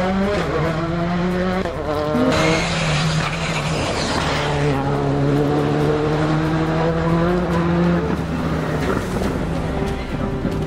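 Rally car on a special stage of the Rallye des Camisards 2023, its engine climbing and dropping through gear changes, close and loud, with brief tyre noise on the surface.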